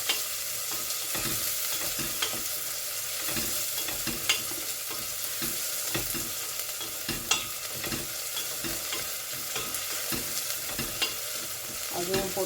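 A medium-sized onion fries in a pan with mustard seeds and fenugreek, giving a steady close sizzle broken by repeated scraping and stirring strokes, with no voices.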